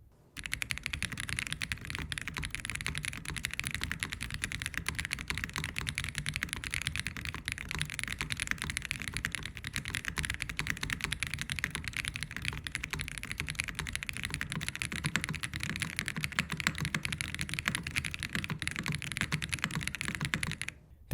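Continuous fast typing on an Aeroboard70 mechanical keyboard in an alternate gasket mount configuration, producing a dense, steady clatter of keystrokes close up for about twenty seconds.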